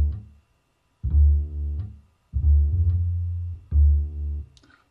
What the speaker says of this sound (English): a cool bass groove that I put through Sample Tank, their vintage jazz upright bass